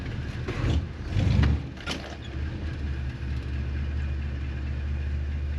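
A 1956 Chrysler Windsor wagon with a 354 Hemi V8 pulls away, its engine swelling in a couple of low surges before settling into a steady, moderately loud rumble.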